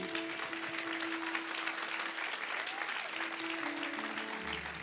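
A church congregation applauds its pastor with warm, sustained clapping that fills the hall evenly for several seconds without a break.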